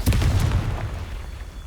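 A Confringo blasting curse bursts in Hogwarts Legacy, a loud, close, low booming explosion that rumbles and decays over a second or so.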